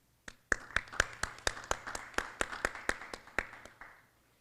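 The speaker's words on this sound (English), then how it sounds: "If we'll also give them a round of applause." About a dozen crisp claps ring out in a steady rhythm at moderate volume at a high school education awards event, a sparse round of applause with nobody speaking.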